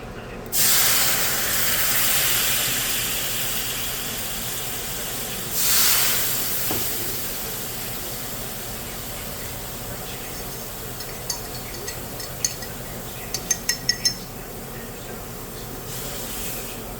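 Store-bought demi-glace sauce with Merlot hissing and sizzling in a hot pan as it is stirred, with two loud surges of steamy spray followed by steady bubbling and a few sharp clinks near the end.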